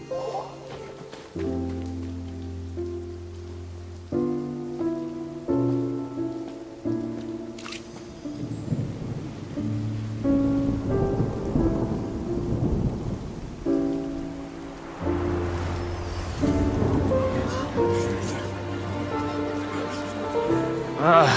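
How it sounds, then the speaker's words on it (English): Rain and rumbling thunder in the video game Genshin Impact, a steady wash of falling water with low rolls, blended with sustained musical tones throughout. "It's raining! Oh no, Paimon forgot to bring an umbrella!"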